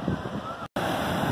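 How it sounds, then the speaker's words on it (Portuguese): Strong wind and surf on a beach at Praia das Quatro Ilhas in Bombinhas, Santa Catarina, on a hot, clear day, as a loud continuous roar with a brief dropout midway and no talk. "Rapaziada, chegamos na praia, muito vento"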